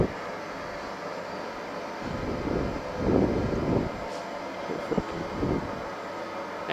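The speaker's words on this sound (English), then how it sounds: "You see we're in reverse thrust." A Boeing 737 rumbles through reverse thrust in a flight simulator game, a broad low roar swelling in the middle and easing off, fairly loud and steady.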